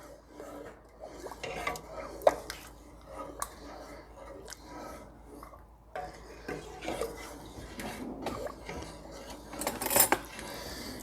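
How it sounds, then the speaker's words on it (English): A spoon scrapes and clinks against a pot while tomato basil bisque is stirred, producing irregular rasping strokes and occasional sharp metal taps, close but fairly quiet, with no talking. "And now I'll stir that."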